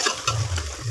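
Onions fry in a pan for chicken biryani, a brief, steady sizzling hiss over a low rumble, close and moderately loud.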